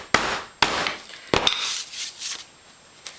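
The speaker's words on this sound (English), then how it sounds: "I'll just give it another encouraging hammer down each one." Three sharp hammer strikes land on leather lacing over book binding boards, close and distinct in the first second and a half, followed by quieter handling sounds.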